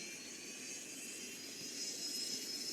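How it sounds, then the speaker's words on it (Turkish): Airplane engine in a flight video game, a faint steady jet-like roar with a hiss, holding constant and swelling slightly toward the end, no voices. "Şu anda uçak sürüyorum ama biraz da korkuyorum."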